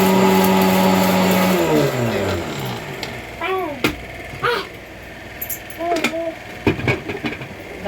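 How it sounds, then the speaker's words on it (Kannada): A kitchen mixer grinder whirs loudly with a steady motor whine, then winds down within about two seconds, followed by scattered clinks and handling noises. It is being used for cardamom. "ಮಿಕ್ಸಿಗೆ ಹಾಕ್ಕೋಬೇಕು"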